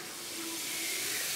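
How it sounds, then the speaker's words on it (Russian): Potatoes frying in a pan outdoors, a steady sizzling hiss that builds slightly and holds even and close throughout, with no talk. "Тут у нас готовится картошка, жарится."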